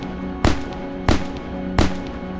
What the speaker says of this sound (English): you just fire it by spam left clicking